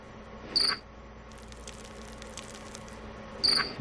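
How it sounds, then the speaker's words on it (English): Recorded cricket calls play back in a lab setting, two sharp chirp bursts separated by a few seconds, clear and fairly near over a steady low hum. "they played cricket calls from different directions"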